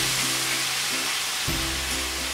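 Jaggery and water heat in a kadhai over a low flame, giving a constant soft sizzling hiss with a faint low hum underneath, close and steady throughout.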